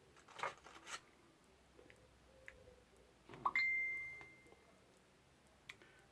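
A phone notification beep chimes once, a short, thin electronic tone fairly close against a quiet room, with faint handling rustles around it and no talk.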